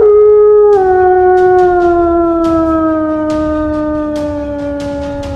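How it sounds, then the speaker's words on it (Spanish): A long, drawn-out werewolf howl used as an audiobook sound effect sounds close and loud, sliding slowly downward in pitch and fading gradually, with faint clicks beneath. "y ahora sí, aullé a la luz de la luna llena"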